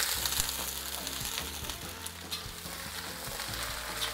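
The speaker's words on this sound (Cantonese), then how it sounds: "然後落啲椰菜啦噃" Cabbage stir-frying in oil in a hot wok, a dense crackling sizzle with scraping and tossing clicks from the spatula, fairly quiet and close, with no voices.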